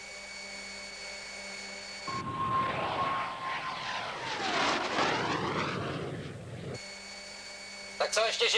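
A small airplane engine drones through a landing approach after the landing gear fails to extend, rising into a loud, close roar with a falling pitch sweep as it passes, then dropping back to a quieter background hum.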